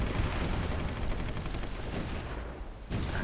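Artillery and gunfire from the Supreme Ruler Ultimate strategy game rumble as a dense, continuous barrage of overlapping blasts and rapid shots, loud throughout with a brief dip near the end.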